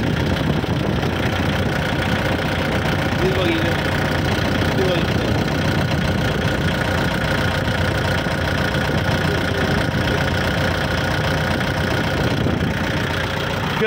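A 47 hp Kubota tractor engine, a 2013 model, idling steadily nearby with an even, rumbling, slightly knocking drone that holds constant throughout, with someone talking at points over it.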